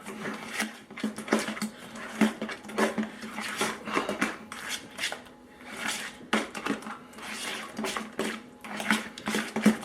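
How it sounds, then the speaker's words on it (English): A seasoned bean dip mixture with chili powder being stirred in a bowl, a steady run of soft scraping and clinking strokes that repeat close and fairly quiet for several seconds. "we're just going to kind of give this a good stir"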